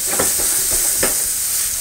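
Garlic cooking in a thin coating of oil in a hot pan, giving a steady, close sizzle with a few soft stirring scrapes and no voices.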